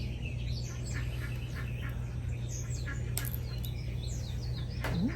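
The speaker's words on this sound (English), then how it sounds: "There's some mockingbirds over there. They look like mockingbirds." Mockingbirds chirp and call from outside a front porch in Furman, South Carolina, with quick bright notes repeating over a steady low background hum.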